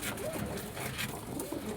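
Pigeons on a hot rooftop giving low, rolling coos, a few close calls repeating over a soft background murmur.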